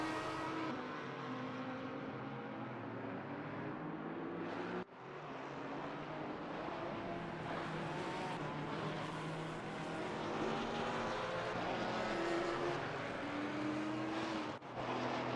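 Race cars lap the Imola circuit. Several engines drone and rev together at a steady, loud level throughout, with brief dips as gears shift and cars pass.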